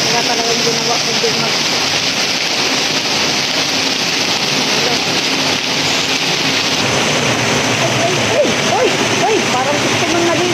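Heavy rain pours steadily on surfaces during a thunderstorm, a loud unbroken hiss with low rolling thunder underneath, while people talk and call out over the downpour.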